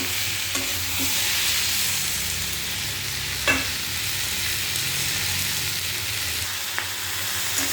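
Raw tomatoes frying in a pan, a loud continuous sizzle close by, with a few scraping stirs of a spatula breaking through the steady hiss.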